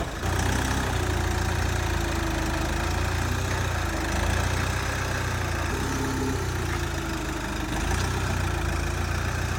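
A Hyundai i800 camper van idles while being manoeuvred, its engine droning steadily and loudly at close range for the whole stretch.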